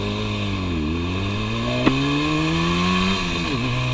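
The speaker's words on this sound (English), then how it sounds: "This is a two-stroke." A classic two-stroke motorcycle engine runs close by at a steady idle with a buzzy, rattling tone, its pitch dipping and rising slightly with small throttle changes, a short click partway through.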